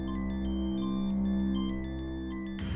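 A steady electronic phone ringtone plays a repeating melodic pattern, loud and close, cutting off abruptly near the end.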